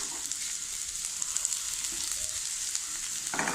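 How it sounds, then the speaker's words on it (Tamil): Chopped okra sizzles in a pan of frying onions, a steady soft crackle throughout, with a sharper burst of frying near the end as more goes in. "இனி வெண்டைக்காவை மறக்குனதை போடணும்"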